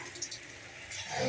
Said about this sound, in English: I need some water in that, otherwise it's going to stick.